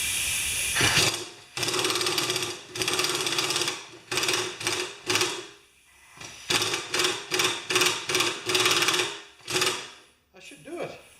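Bolts being tightened on a 1973 Briggs tiller drive assembly with a hand ratchet, bursts of rapid clicking in repeated strokes separated by short pauses, close and crisp, with brief speech between strokes.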